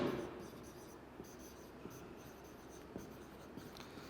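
Chalk or marker writing on a classroom board during a chemistry lecture, heard as faint, sparse taps and light strokes over quiet room tone, with no talking.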